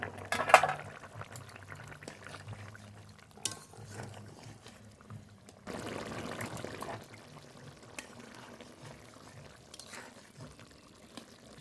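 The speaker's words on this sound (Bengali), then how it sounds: "মাছের ঝালের জন্য গ্রেভি খুব ভালো ফুটে গেছে" Fish curry gravy for swarna puti simmering in a pan with the fried fish added, a soft steady bubbling with a few faint clinks, fairly quiet throughout and no voices.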